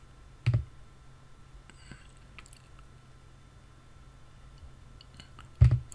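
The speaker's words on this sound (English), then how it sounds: "I am going to click here and select a one column section." A computer mouse clicked while working in software: two crisp, close single clicks about five seconds apart, with only quiet room hiss between them.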